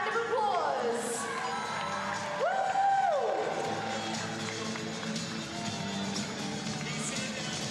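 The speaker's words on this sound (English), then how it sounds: "Let's give her one more round of applause." An indoor arena crowd at a women's basketball game applauds and cheers, with sustained clapping, whoops and children's shouts spread across the space, a whistle-like tone rising briefly early on.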